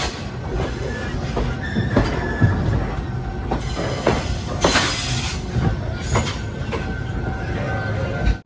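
Malaysian jungle train on the Johor Bahru to Tumpat line approaching a level crossing: loud, continuous rail rumble with wheel squeal and sharp rhythmic clacks over the track, heard from on board.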